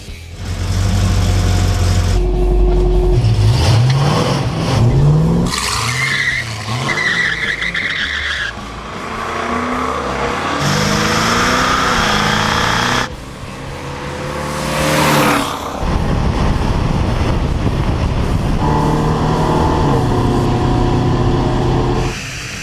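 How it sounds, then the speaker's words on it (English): A Chevelle SS with an HT502 big-block and 4L80E transmission makes loud drag-strip passes: engines roar and rise through gears, with tire squeal and skidding bursts and a crowded, continuous mix of vehicle noise throughout. "I took it over to this drag strip. It runs really clean and pulls really hard."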